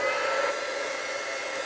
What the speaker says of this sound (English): So I'm going to turn on the heat gun. You're going to hear a loud noise.